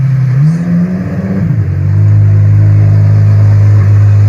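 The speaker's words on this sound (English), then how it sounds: "It's deafening. That V12, naturally aspirated, I believe." Ferrari naturally aspirated V12 at a charity hypercar event, a loud, close rev that climbs and dips, then settles into a deep, sustained roar.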